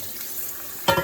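Running tap water splashes briefly as food is rinsed at a sink, a soft steady trickle swelling into a louder gush near the end, close by.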